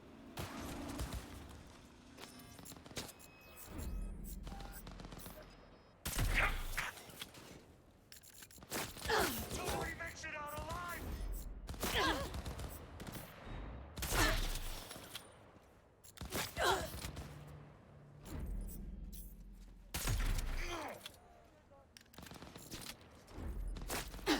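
Gunfire in the Cyberpunk video game aimed at the player: irregular bursts of sharp shots crack in clusters over a long stretch, separated by short quieter gaps, with a speaking voice breaking in between volleys.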